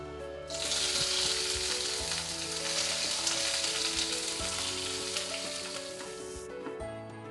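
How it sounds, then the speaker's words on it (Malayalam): Chopped onions and green chillies drop into hot oil and burst into a loud, continuous sizzle that holds steady for several seconds before easing off at the very end, with no voices. "ഇനി നമ്മൾ നേരത്തെ കട്ട് ചെയ്ത് വെച്ചിട്ടുള്ള സവാളയും പച്ചമുളകും എല്ലാം ഇതിലേക്കൊന്ന് ഇട്ട് കൊടുക്കാം"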